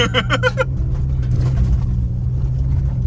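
A Ford Ranger Raptor V6 pickup, 300 hp, drives off-road with a steady close engine rumble throughout, and a brief voice speaks at the start.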